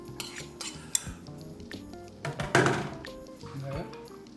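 A spoon clinks and scrapes in a bowl of chopped strawberries, with scattered light metallic taps and a louder clatter near the middle, close and without talk.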